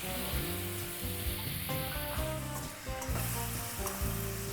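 Finely chopped tomato sautés with fried onions in a pan, a close, continuous sizzle under loud background music, with no voices.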